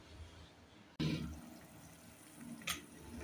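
Water poured from a vessel into a cooking pot for tomato rice, a sudden splashing gush that starts abruptly and settles into a steady pour, with a brighter splash near the end.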